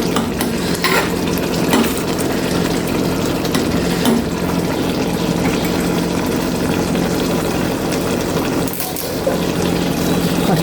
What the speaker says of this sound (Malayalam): ഇനി നമുക്ക് അതിലേക്ക് മീനിട്ടു ഇടയാതെ ഇങ്ങനെ ഇളക്കി കൊടുക്കാം